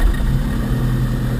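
A Diamond DA42 aircraft diesel engine running just after starting, a loud, steady low droning rumble with an even, slightly pulsing tone and no voices.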